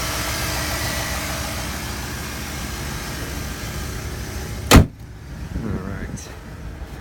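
Chevrolet Avalanche engine idling smoothly close by, a steady low hum broken by a sharp clunk, likely a door, followed by quieter running.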